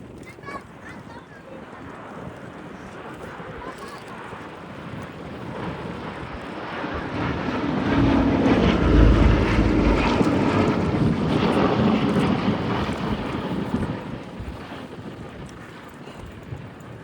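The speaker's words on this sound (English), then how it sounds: "keeping this aircraft flying, allowing it to continue its vital mission of commemoration and remembrance" An aircraft flying a display at the Abingdon Air & Country Show at Dalton Barracks builds into a broad engine roar that swells to a peak mid-way and fades again, with wind noise on the microphone.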